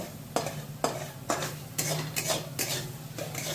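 A spoon stirs chili powder, turmeric and slit green chilies into a Bengali fish curry masala in a pan, giving a steady run of scraping strokes about every half second over a low sizzle, close and fairly quiet.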